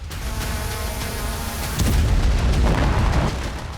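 Explosion from a drone attack on the Sverdlov explosives plant in Nizhny Novgorod, Russia, a loud sustained booming rumble with a heavier low blast surge about halfway through, no talk.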